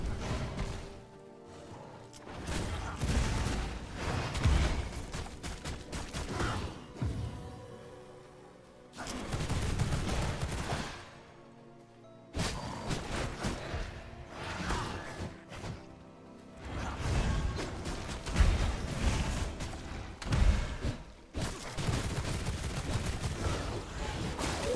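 Pistol gunfire in the vampire survival game V Rising, with repeated sharp shots and impact bursts coming in dense clusters separated by brief lulls, loud and busy throughout.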